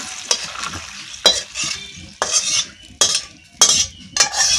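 Mustard oil heats in a wok while a spatula stirs and scrapes, giving sharp metallic clacks between bursts of bubbling sizzle that rise and fall in an uneven rhythm, close and clear with no voices.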